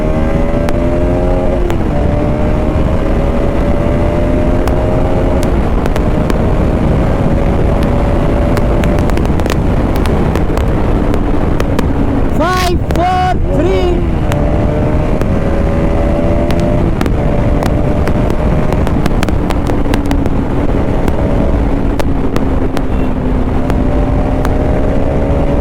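A motorcycle fitted with Apollo Alpha tyres is ridden at a steady pace. Its engine drones continuously and close up, shifting pitch as it accelerates and gears change, with loud wind rush throughout.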